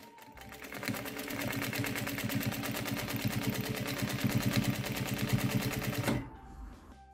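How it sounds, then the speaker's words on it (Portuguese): A sewing machine runs steadily for about six seconds, its fast rapid-fire stitching clatter close and even as it sews around a fabric trapezoid toiletry bag made from a printed panel, then stops abruptly with a brief mechanical tail. "seguro as duas linhas e faço uma costura ao redor."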